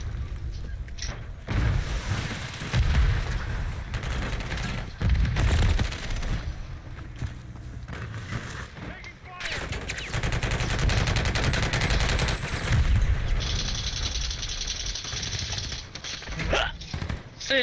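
Rapid bursts of gunfire in the Call of Duty Rebirth Island video game, landing headshots in a dense, loud cluster of shots that swells and fades over the stretch, with a voice talking over it.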